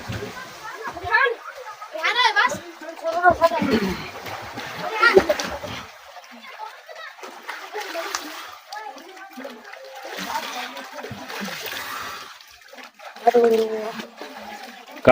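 Water splashes irregularly as people swim and play in a village river, with bursts of splashing interleaved with close conversation and children's voices throughout.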